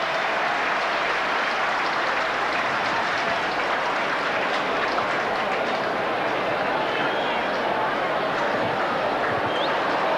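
A large rugby league crowd applauds and cheers its football heroes at a 1987 match, a dense, steady roar of clapping that holds for the whole stretch with a commentator's voice over it.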